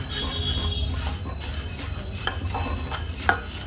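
Coorg-style pork curry masala spices are dry-frying in a pan under constant stirring, with a steady low sizzle and scattered scrapes and light clinks of the utensil against the pan. No one speaks.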